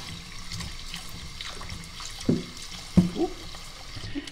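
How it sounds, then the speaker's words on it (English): Vegetables rinsed under a running kitchen tap, water trickling and splashing in a sink with a few louder gurgling splashes partway through, close by and with no talking. "I'm going to wash my veggies"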